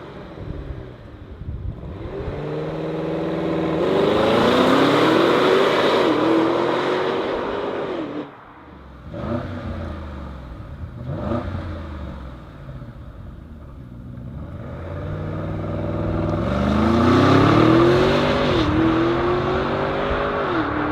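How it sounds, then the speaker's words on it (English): Audi SQ7 or SQ8 2021 with a 4-liter bi-turbo V8, cylinder on demand and mild hybrid, revs up loudly and close, with rising engine sweeps, a dip around the middle, then another strong acceleration. "a 4-liter V8 bi-turbo, cylinder on demand, mild hybrid"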